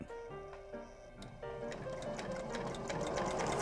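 Sewing machine stitching an apron, a fast close mechanical chatter in short bursts that stop and restart at a pivot, then run continuously and grow slightly louder toward the end.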